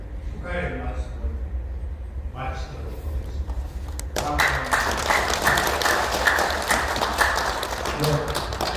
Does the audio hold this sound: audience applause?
yes